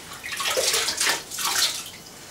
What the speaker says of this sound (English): with a sponge, just any old sponge, it doesn't matter, bucket of hot water